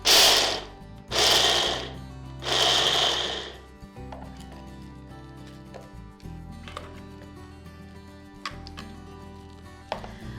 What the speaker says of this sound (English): I'm just going to use the pulse feature on the blender to pulse these up to the texture I want